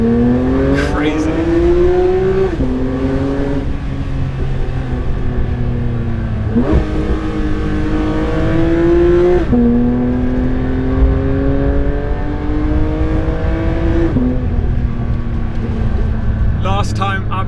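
Porsche 992 GT3 RS engine revving hard on Susten Pass, loud and close, its pitch climbing steeply through several gears with sharp drops at each shift, heard from inside the cabin with the window down.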